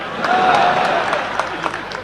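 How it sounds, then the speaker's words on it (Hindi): A crowd at a Hindi comedy poetry event breaks into brief applause, scattered claps rising over a murmuring room close to the microphone. "आप तो ताली बजा देना"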